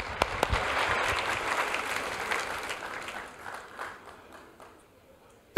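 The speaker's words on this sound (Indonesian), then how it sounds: "Tepuk tangan dulu buat kamu, oke?" Church congregation applauding after a sermon, a broad burst of clapping that gradually fades, ending in a sharp knock.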